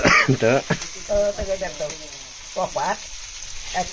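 Mackerel fries on a griddle over a wood-fired clay stove, giving a soft, steady background sizzle that sits under close, loud conversation throughout the few seconds.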